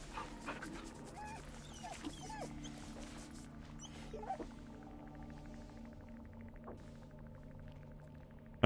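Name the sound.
dog whimpering in the video game Baldur's Gate 3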